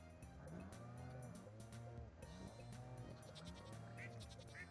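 Farm cattle in the video game Stardew Valley moo repeatedly in a rhythmic series of low, drawn-out calls, layered over quiet background game sounds.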